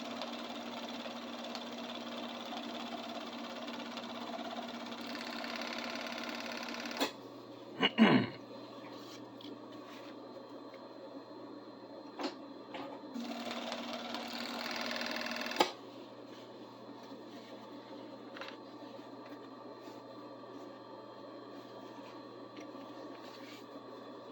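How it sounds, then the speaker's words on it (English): Serger (overlock sewing machine) stitching fabric pieces in two steady runs of mechanical whirring, the first about seven seconds and the second shorter, separated by a clunk and quiet handling, with no talk. "I prefer going slower on the serger when I can."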